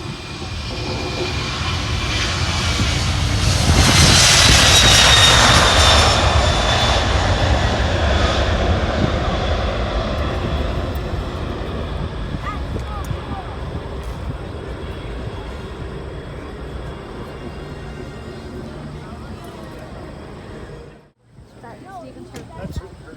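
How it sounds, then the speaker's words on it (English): An RCAF Airbus CC150 Polaris jet on its takeoff roll at an airshow, a loud broad engine roar that swells to a peak within seconds, then slowly recedes as the aircraft departs, with an announcer talking over it. "our CC150 Polaris is on the takeoff roll"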